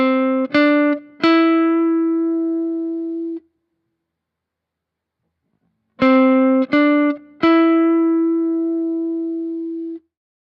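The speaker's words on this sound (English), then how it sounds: "I'm testing the sound between different picks" An electric guitar runs through a Kemper amp profile and is picked with a Dunlop Nylon 88 pick, heard alone. Two phrases of three quick plucked notes each ring out, and the last note of each phrase sustains, separated by a short silence.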